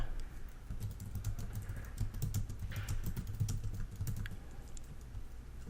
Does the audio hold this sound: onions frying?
no